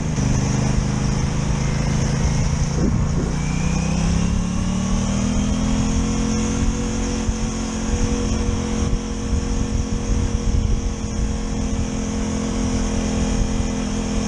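An Aprilia Tuono 660 Factory, a half-faired roadster motorcycle, being ridden: a steady, close engine drone that climbs in pitch as it accelerates, with wind rush throughout.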